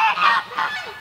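Canada geese honk in a pen beside a lake, two loud, close, nasal calls in quick succession, with no talking.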